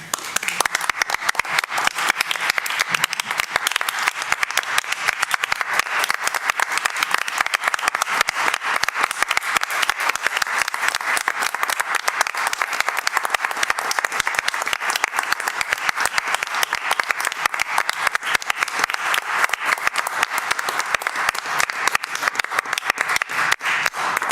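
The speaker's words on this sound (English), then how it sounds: "Made us all in contempt of our council rules by standing and applauding during a meeting." City council meeting attendees stand and applaud in a long, steady ovation: many hands clapping densely and evenly for over twenty seconds, close and fairly loud, with no break in the sound.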